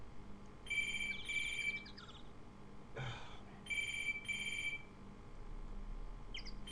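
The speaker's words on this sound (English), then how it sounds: "I can't talk while it's ringing. It's too loud. Stupid phone." A landline phone rings loudly indoors in repeated electronic bursts with short gaps between them, and a soft knock or thud comes in the middle.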